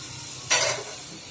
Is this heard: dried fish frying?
yes